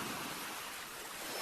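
Ocean waves wash in a steady, broad hiss of surf, soft and continuous throughout, with no voices.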